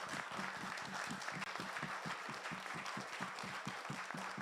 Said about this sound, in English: So I want to give our panelists a round of applause.